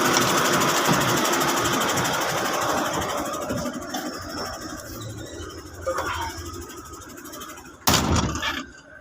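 A Sinotruk single-axle truck with factory liftable wheels runs while being driven, a steady loud engine rumble that gradually eases, ending with a sharp clunk near the end.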